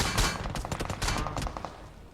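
Gunfire in the mobile battle royale game BGMI rattles in quick bursts, first a dense volley and then a run of sharp, evenly spaced shots, loud and close with no voices.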